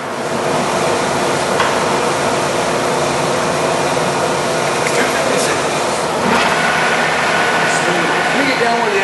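An American Pacemaker heavy duty lathe runs at 183 RPM in a workshop, a loud, steady mechanical hum and drone with occasional faint clinks, as voices talk over it.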